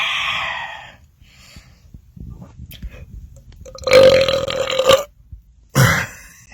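A man lets out loud, drawn-out belches after drinking Wild Cherry Pepsi, one long croaking burp lasting about a second followed by a shorter burst, close to the microphone with quiet gaps between.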